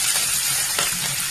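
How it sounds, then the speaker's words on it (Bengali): Chopped onion, ginger and garlic fry in hot oil for a paneer butter masala, a dense steady sizzle, loud and close, with no voices. "এবারে এর মধ্যে আমি একে একে দিয়ে দিলাম পেঁয়াজ কুচিগুলো, আদা রসুনটা দিয়ে দিলাম"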